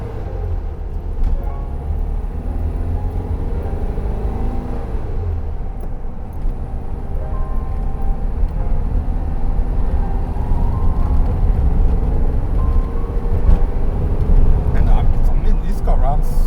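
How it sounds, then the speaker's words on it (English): Steady, low rumble of an original old car being driven, a 91-year-old owner's daily driver since new, its engine running continuously up close with a slight build toward the end; voices talk over the road noise. "this car runs so good."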